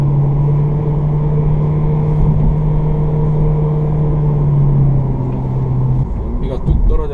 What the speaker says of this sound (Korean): 수동 변속 모드를 통해서 엔진 사운드를 좀 더 크게,